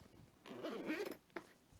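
A zipper on a fairly hard carrying case for FPV goggles is drawn open in one steady pull, a rasping slide lasting under a second, followed by a brief click.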